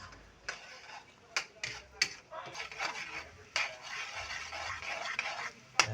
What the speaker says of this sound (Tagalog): Luto kami ng pili mga idol.